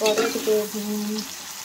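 Beans frying in hot oil in a pan, a steady close sizzle with some stirring clatter at the start, heard alone for under two seconds.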